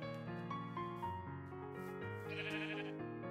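A sheep in the video game Minecraft bleats in drawn-out, wavering calls. The calls sit over a sustained tonal background and come without any talk during the moment.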